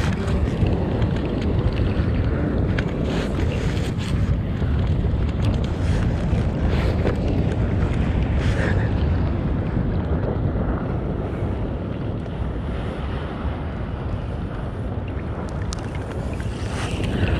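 Rough sea waves crash and churn around a small fishing boat, a dense steady roar mixed with heavy wind buffeting the microphone and occasional splashes, sustained and loud throughout with no talk.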